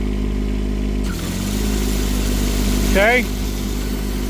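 A tractor engine idles steadily with its PTO engaged while equipment runs to fling rocks, a constant low drone with a slight rise in load. A person speaks briefly over it.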